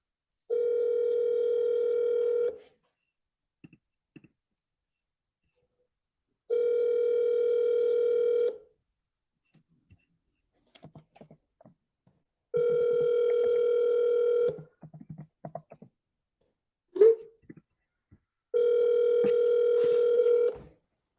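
Telephone dial tone from a call to a seller, four steady buzzing tone bursts about two seconds each, separated by gaps with faint clicks and rustles, fairly loud and close with no talking.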